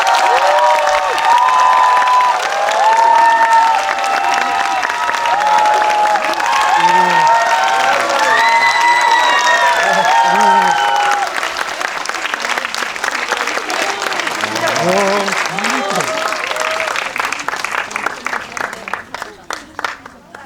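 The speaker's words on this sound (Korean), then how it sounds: "입장할 때만큼이라도 박수에 좀 집중을 해주시기를 부탁드릴게요" A large audience at a film guest-visit event claps steadily as the director and cast walk in, a dense wash of applause with scattered cheers and whoops that thins out toward the end.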